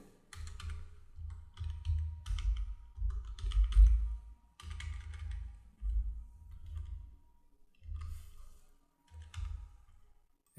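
Bursts of fast typing on a computer keyboard while entering a GST number, close and crisp clicking in short runs separated by brief pauses, with no voices.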